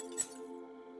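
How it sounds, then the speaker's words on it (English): Broken glass moved in Project Zomboid, a single short, bright clink near the start that fades quickly over a steady low hum, faint and alone. "Move that broken glass."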